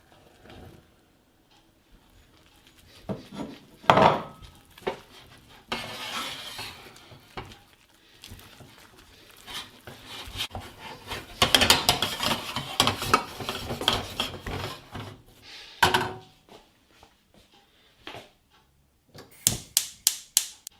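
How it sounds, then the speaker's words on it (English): A wooden spoon or spatula works flour into boiling choux pastry dough in a pan, giving irregular scraping, slapping and knocking against the pan in bursts and pauses, close by. "keep working the flour until it all becomes one smooth paste"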